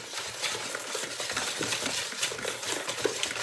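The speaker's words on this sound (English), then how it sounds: "I like to use a whisk because it helps get your lumps out." A whisk stirs cornbread batter in a bowl, making quick, continuous scraping and tapping against the sides, close and moderately loud with small irregular clinks, and no voices.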